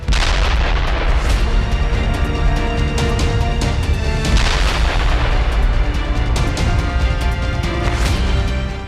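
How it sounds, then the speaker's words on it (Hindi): Heavy explosions from glide bomb and missile strikes in the Russia-Ukraine war roll in one after another. Deep booming thumps and crackling blasts run without a break through a loud, dense wash that never drops away. "ग्लाइड बम से हमला, मिसाइल से निशाना।"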